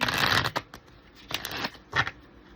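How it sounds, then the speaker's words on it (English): A deck of oracle cards being shuffled close by: three quick riffling bursts, the first longest, with short pauses between. "Let's do a shuffle to get Halle's energy, y'all."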